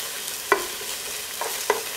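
Spring onions sizzle steadily in a hot pan, with two or three soft scrapes and clinks of a utensil stirring them, close and moderately loud with no talking.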